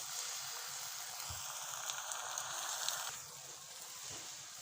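Ginger garlic paste fries in a pan with a soft, steady sizzle, faint and close, running on its own without talk.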